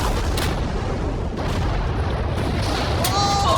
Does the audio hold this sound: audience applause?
no